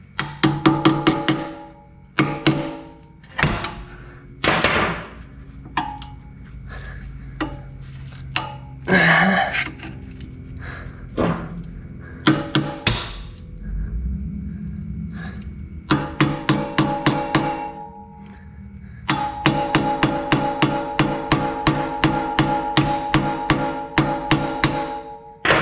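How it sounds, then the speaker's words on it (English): Hammer blows on a small chisel against a stuck exhaust part on a Jeep ZJ with the 4.0L engine, a series of sharp metallic strikes in irregular bursts, then rapid steady tapping near the end. "got a little chisel here."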